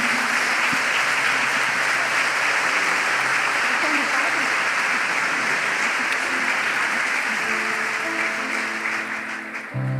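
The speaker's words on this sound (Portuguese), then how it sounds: "Vamos aplaudir a palavra do Senhor." A church congregation applauds during a Catholic Mass, a dense, steady roar of clapping that fills the space and holds for the full stretch, thinning near the end as voices and a faint tonal sound rise beneath it.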